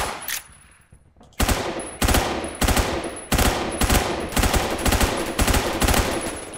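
Rapid bursts of gunfire from a gun in the shooter game Phantom Forces, firing faster than a Desert Eagle: about seven loud, evenly spaced automatic volleys after a brief quiet start, with no talk.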